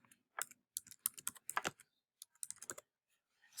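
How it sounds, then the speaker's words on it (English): Fingers type on a computer keyboard in quick, uneven bursts of crisp key clicks, close and fairly quiet, with short pauses between runs. "I'll start typing my introduction."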